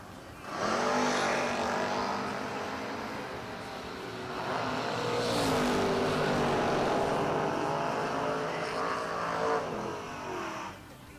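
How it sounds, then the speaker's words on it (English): F-Body Camaro drag racing at about 105 mph, loud engines roaring down the strip with rising and falling harmonic revs, swelling as the cars pass and fading away at the end. "Six gets there first for the F-Body Camaro, 105 miles per hour."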